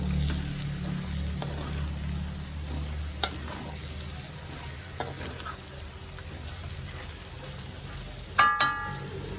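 Kerala-style beef varattiyathu roasts in a pan with a steady, close sizzle, broken by occasional scrapes of a stirring spoon and a couple of metallic clinks near the end, with no talking.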